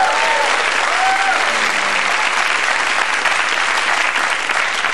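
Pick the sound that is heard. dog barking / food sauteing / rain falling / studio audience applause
studio audience applause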